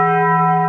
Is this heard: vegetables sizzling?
no